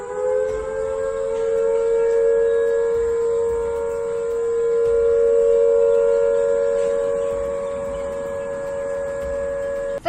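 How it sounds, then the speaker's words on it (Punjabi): An air raid siren in Chandigarh wails steadily and loudly for the whole stretch, its tone swelling and easing slightly, with no voices. "ਸਾਇਰਨ ਵੱਜਣ ਦੀ ਆਵਾਜ਼ ਸੁਣਾਈ ਦਿੱਤੀ"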